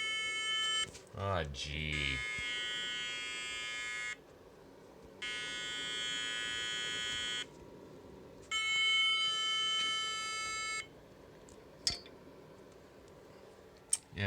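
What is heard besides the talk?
computer mainboard failure beep code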